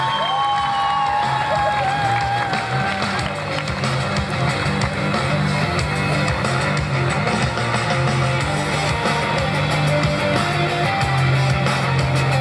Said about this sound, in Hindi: आपकी भरपूर तालियों में